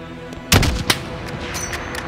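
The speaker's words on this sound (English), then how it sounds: "Those shots came from the highway!" Loud gunshots crack in Call of Duty: Modern Warfare during the Highway of Death mission, two sharp close reports followed by fainter distant shots over a rumbling battlefield background.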